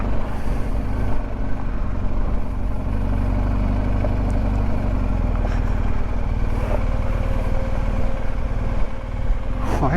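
A motorcycle idles in a parking spot on Mt Washington with its cooling fan running, a loud, steady engine drone and whirring hum close by for the whole stretch, with no talk.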